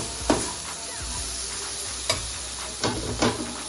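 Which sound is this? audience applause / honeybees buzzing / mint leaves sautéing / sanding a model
mint leaves sautéing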